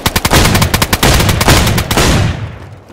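Gunfire in the video game DayZ on the Namalsk map: a loud, rapid burst of automatic shots cracks close up, then trails off into a fading echo.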